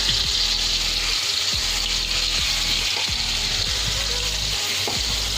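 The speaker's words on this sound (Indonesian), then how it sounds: "kita menumis bumbu yang sudah kita haluskan tadi" Ground spice paste sautéing in a hot pan: a loud, close, continuous sizzle with repeated scraping strokes of a spatula stirring through it, no voices.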